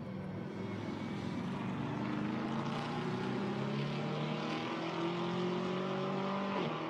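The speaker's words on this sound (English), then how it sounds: "Cayman blasts downhill, off the circuit and back on again" Porsche Cayman GT4 race car at Spa-Francorchamps running downhill toward Eau Rouge during GT4 European Series qualifying, a steady loud engine roar with rising and falling gear pitch, continuous and alone for the whole stretch.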